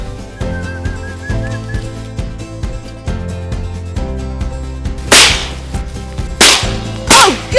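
Shotgun blasts ring out during a duck hunt over decoys: three sharp, loud reports come in quick succession near the end, over a steady outdoor background with faint whistling.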